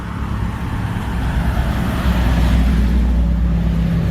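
An old American car passes on a street in Cuba with a low engine rumble that grows louder and closer over several seconds amid general traffic noise, with no voices.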